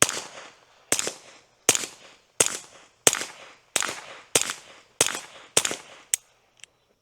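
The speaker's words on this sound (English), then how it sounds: "here's that footage that I took out at the range to show you how the Hush Point 22 sounds" Shots from a .22LR rifle fitted with a Hi-Point Hush Point 22 silencer at a shooting range, eight evenly spaced muffled cracks about a second apart with short decays, then two fainter clicks.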